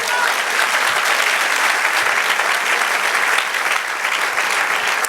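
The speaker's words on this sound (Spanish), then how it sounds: "Denle un aplauso al Señor." A church congregation bursts into dense, loud applause that continues without pause for five seconds, with faint voices mixed into the clapping.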